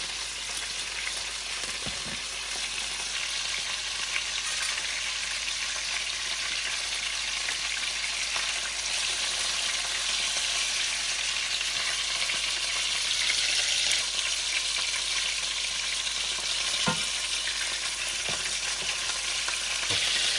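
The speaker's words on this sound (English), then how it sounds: "We're going to cook the cauliflower in here. We're going to put a little bit of oil and some butter." Purple and yellow cauliflower frying in a pan with oil and butter, giving a steady, close, continuous sizzle and crackle that runs unbroken for the whole stretch with no voices.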